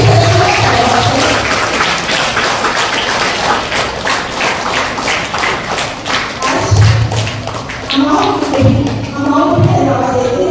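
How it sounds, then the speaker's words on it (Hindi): A congregation claps together inside St Joseph's Catholic Church during a Krusveer Diwas gathering: dense, sustained applause that holds steadily for the whole stretch, with a few heavier thuds near the end. "तो हम जोरदार तालियों से कॉलेज सभी सदस्यों का धन्यवाद करें"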